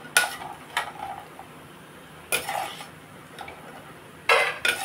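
A utensil clinks and scrapes against a pan in a few separate sharp bursts as fried vadiyalu are lifted out, with quiet gaps between the knocks and no talking.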